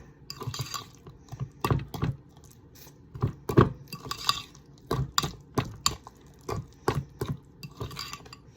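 Spoon clinking against a glass or ceramic bowl while chopped jalapeno is stirred into deviled egg filling, a run of close, irregular scraping taps with short pauses between strokes.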